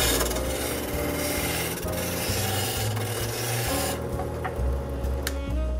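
Steady abrasive rubbing as the inside of a ring is sanded, with a close, continuous scratchy rasp and a rhythmic low hum pulsing through it. Nobody speaks.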